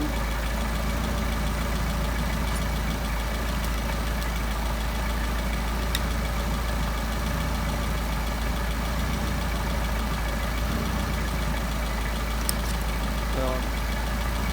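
Car engine idling steadily throughout while a Solex carburetor is adjusted, a constant low drone close by, with faint clicks and a voice in the background.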